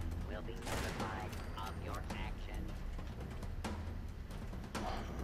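Rapid video-game gunfire crackles in sharp broadband bursts, with several loud shots spread across the moment and a voice talking over the shooting.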